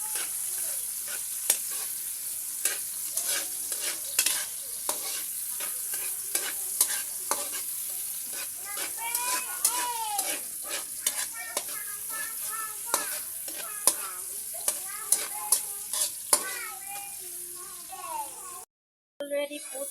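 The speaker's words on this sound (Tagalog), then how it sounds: "Already put the ground pork and hintayin ko lang na maluto yung ground pork para hindi siya magdikit-dikit." Ground pork fries in a pan with a constant sizzle while a utensil stirs and scrapes it in quick, repeated strokes, clear and close, with a brief dropout near the end.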